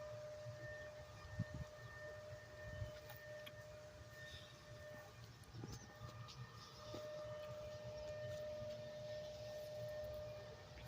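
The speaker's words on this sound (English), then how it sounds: "And that noise you hear is a tractor." A distant tractor engine drones steadily with a faint tonal whine, low and continuous, under quiet outdoor ambience at a cherry festival.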